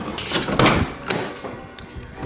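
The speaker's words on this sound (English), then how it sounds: "So then the side doors here open up nicely." Side doors of a used van being handled and opened, giving a few close, broadband thumps and rattles with a louder knock near the middle and a lighter click later, no talk.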